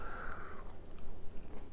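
A crunchy savory cauliflower waffle is bitten and chewed, giving a few soft crisp crunches and repeated chewing sounds close to the mouth, fairly quiet and with no talk.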